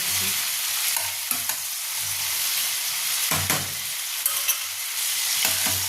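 Tomatoes and green chillies fry on high flame in a pan, a steady close sizzle with rhythmic scraping and clinks as the mixture is stirred. No talking.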